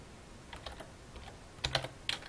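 Clicks from a computer keyboard come in short bursts of a few keystrokes each, close and crisp against a quiet background.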